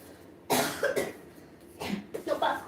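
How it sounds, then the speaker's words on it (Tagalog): A person coughs in a few harsh, close bursts with short pauses between, loud against a quiet room. "Paano gagaling yung ubo ko?"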